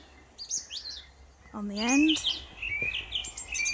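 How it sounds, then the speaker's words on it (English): Birds chirp outdoors at a holiday home park near Betws-y-Coed in Snowdonia, with high thin tweets scattered throughout and one louder descending call midway, heard under someone speaking briefly over soft background hiss. "you can hear the birds chirping"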